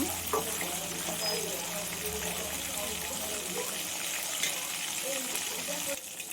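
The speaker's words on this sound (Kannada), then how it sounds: "ಚೆನ್ನಾಗಿ ಫ್ರೈ ಮಾಡಬೇಕು" Tuna fish pieces frying in oil in a pan for fish pickle, a steady close sizzle and hiss running throughout with stirring noises.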